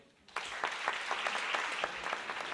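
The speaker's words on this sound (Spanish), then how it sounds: "Un fuerte aplauso para el Ventolín." After a brief quiet moment, an audience bursts into steady applause for an Asturian folk dance group about to perform, a dense even clapping that continues to the end.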